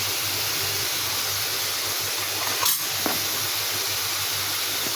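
Salted, turmeric-dusted steamed potatoes and yardlong beans fry in a pan with a steady, even hiss and no talk, broken by one brief louder crackle near the middle.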